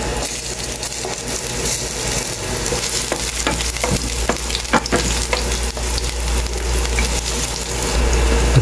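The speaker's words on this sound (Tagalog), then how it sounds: "Painitin lang ng husto ang mantika at saka ilalagay ang bawang," Garlic and ginger sizzle steadily in well-heated cooking oil, a dense continuous crackle with occasional sharper pops and stirring scrapes, close and alone without talk.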